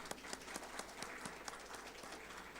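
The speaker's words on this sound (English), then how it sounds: "Can we have a big round of applause, please?" A conference audience applauds with steady, faint clapping that continues throughout, with no talk over it.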